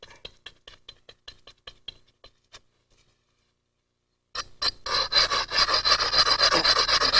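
Novaculite stone being ground by hand: a run of short rhythmic rasping strokes, then a pause of near silence, then a louder, denser stretch of continuous scraping, close and alone.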